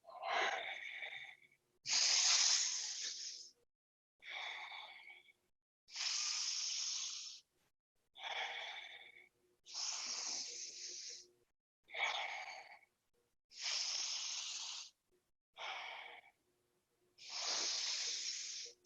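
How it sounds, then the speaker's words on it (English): Alternate-nostril yoga breathing during a vinyasa session: about ten slow, airy breaths in a steady rhythm, each a soft hissing rush through one nostril, close and fairly quiet, with short pauses between. "So you're breathing from the nostril of the arm you're lifting."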